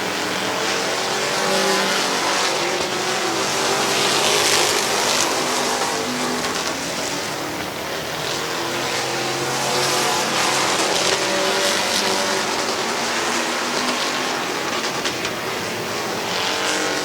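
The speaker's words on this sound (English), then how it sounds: "Pringle trying to look all over the back bumper of the 77 of Schweitzer for third" Race cars roar continuously around the dirt oval at Midvale Speedway, a dense, loud wash of engines from a pack circling close by, steady throughout with no pauses.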